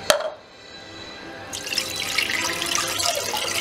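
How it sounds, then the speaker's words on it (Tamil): Water pours from a tumbler into a pan of sago for vadagam, a soft splashing, gurgling stream that starts after a brief knock and runs steadily, close by. "அதனால் இன்னும் கொஞ்சம் தண்ணி ஊற்றுறேன்."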